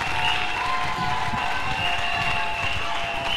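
Steady crowd applause and cheering fill a church service, loud and continuous, with a faint tonal hum running underneath.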